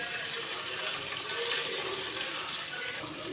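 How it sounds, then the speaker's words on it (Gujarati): Water poured into hot oil tempering with chilli for khaman dhokla, giving a steady broadband hiss and sizzle that holds without pause for the whole stretch, close and even, no talk. "થોડું પાણી રેડીશું"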